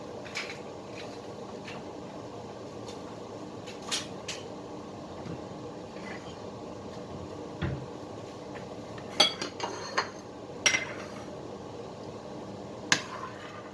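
A utensil stirs potatoes and carrots in boiling water in a pot, clinking and scraping in scattered knocks, with louder clatters near the end over a quiet background hiss.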